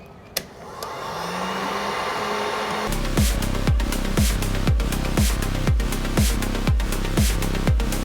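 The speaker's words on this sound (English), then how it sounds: "So now let's go ahead and turn on the heat gun." A heat gun runs on its low first setting during a Lexus RX 350 headlight lens replacement. A click starts it, then a loud steady blowing rises and stays on, with a regular pulsing tick through it.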